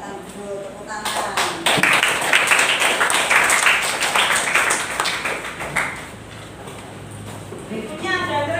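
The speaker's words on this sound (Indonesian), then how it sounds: "Silakan duduk, tepuk tangan." Classroom applause rises after a few sharp claps, a group of students clapping loudly and steadily for about four seconds before fading, with a teacher talking around it.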